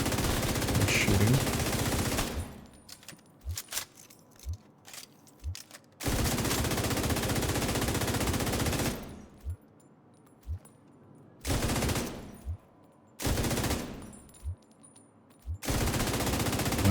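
Video game gunfire comes in long, loud bursts of rapid automatic fire, broken by short pauses and repeated several times, with faint talk in the quieter gaps.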